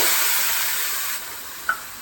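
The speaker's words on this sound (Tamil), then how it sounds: "இந்த கரைச்சி வச்சுருக்க புளி ஜூஸை ஆட் பண்ணுறேன்" Tamarind juice hits a hot pan for puliogare with a loud, steady hiss that gradually eases off, ending in a brief sharp crackle near the close.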